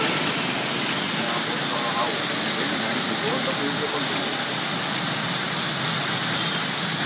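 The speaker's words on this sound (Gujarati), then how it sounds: "કનકબીર રોડ પણ નાણાવટી ચોકમાં જોરદાર છે વરસાદ" Heavy rain pours on a street at Nanavati Chowk, Gujarat, as a dense, unbroken wash of hiss at an even level. A voice may sit faintly beneath it.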